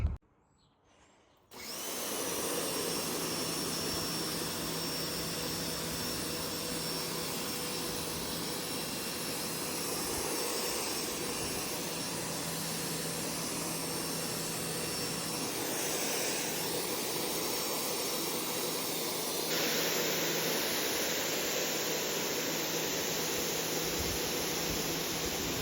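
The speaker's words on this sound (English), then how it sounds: "So this is really dirty, and the power washer will be able to clean that up and make it look really nice and fresh." A power washer blasts dirt off a house exterior, starting after a brief quiet moment into a loud, unbroken hiss with a steady motor hum that brightens slightly near the end, with no voices.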